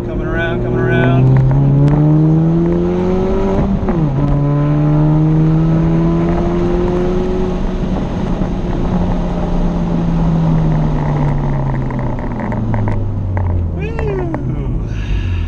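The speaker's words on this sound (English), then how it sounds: "I'll leave the windows open for a sec so you guys can get some exhaust" Exhaust from a 2016 Chevrolet Camaro, heard loud from inside with the windows open, climbs through the revs, drops on heel-toe downshifts and pulls again in rising and falling engine sweeps, with no talk over it.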